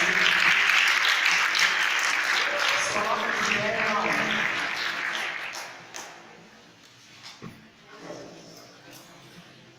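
A church congregation at a Pentecost service bursts into loud applause that fills the room, then fades away after a few seconds while a voice speaks over it.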